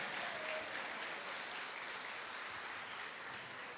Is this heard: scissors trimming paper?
no